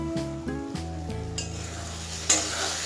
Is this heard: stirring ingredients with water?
yes